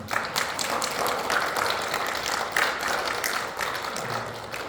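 A small church congregation claps for two newcomers during a Sunday service, a moderate, even patter of hands continuing steadily without talk.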